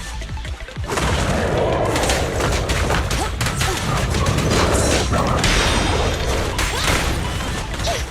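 Suppressor K-22 weapon firing in the video game Zenless Zone Zero, a dense rapid barrage of loud booming shots and crashing impacts that starts abruptly after a brief pause and continues without letup.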